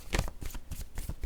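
Cards are handled and shuffled for a card reading, giving a quick series of soft, close papery flicks and riffles.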